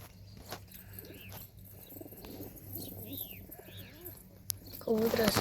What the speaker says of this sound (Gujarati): કબૂતરા સણે છે મિત્રો.